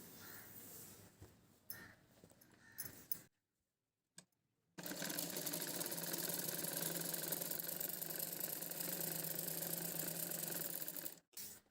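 A sewing machine stitches a double seam on a young girl's lehenga blouse, running in a steady close whirring burst after a few short starts and pauses, then stopping.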